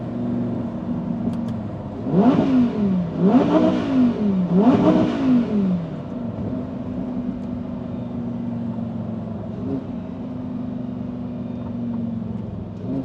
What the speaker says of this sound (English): Just listening to engine sounds.